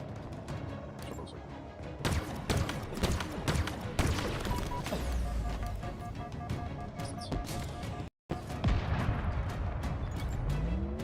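Sniper rifle shots ring out in Halo Infinite amid a dense, busy game mix of repeated sharp cracks, impacts and rumbling battle noise, loud and continuous with one brief dropout near the end.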